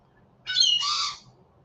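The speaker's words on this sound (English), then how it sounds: "The birds are on the balcony." Birds on a balcony give a single harsh squawk lasting under a second, fairly close and clear over a quiet low background hum.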